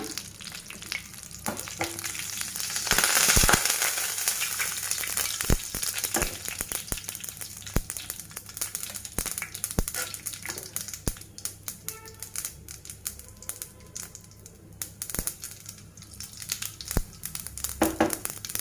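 Mustard seeds and cumin crackle and sizzle in hot oil for a millet utappam and ponganaalu dish, a dense, close spattering with sharp pops and a brief louder burst early on, no speech.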